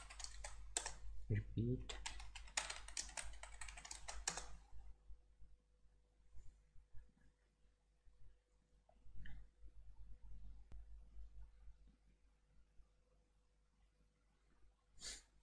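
A computer keyboard is typed on in quick bursts while a Unix username and password are entered during a WSL Ubuntu 20.04 install, close and clear at first, then sparse taps with a brief spoken word between.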